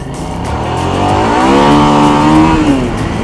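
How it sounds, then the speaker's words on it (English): Motorcycle engine revs loudly and close as the rear wheel spins out on a turn during a riding course, pitch climbing and holding before easing off, with a continuous roar throughout. "So I just spun the rear wheel again."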